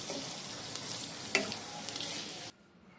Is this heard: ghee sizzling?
yes